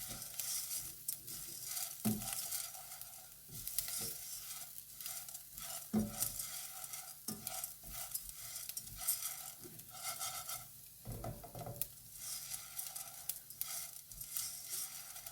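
Risotto rice stirred in a pan for crab and dill risotto, a steady scraping and soft sizzle with occasional spoon knocks against the pan, moderately close and continuous with no talking.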